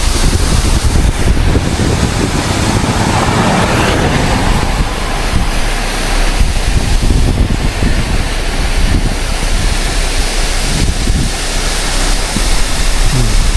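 Roadside waterfall in Laos, a steady broadband rush of falling water close by, continuous and fairly loud with gusty wind buffeting the microphone throughout.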